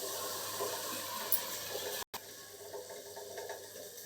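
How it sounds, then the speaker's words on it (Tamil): Water poured into cooked-down masala of oil, mint and coriander for chicken biryani, a steady splashing pour running for about two seconds, then a brief cut and a continued quieter flow. "இப்போ வந்து தண்ணி ஊற்றிக்கலாம்"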